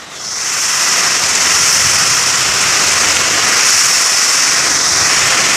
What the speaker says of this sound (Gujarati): તો મિત્રો આ પવન આવે ફૂલ વરસાદ આવ્યો છે